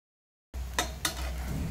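Wheat flour chilla roasts in a pan, a steady low sizzle starting after a short silence, with two brief scraping clinks from a spatula partway through.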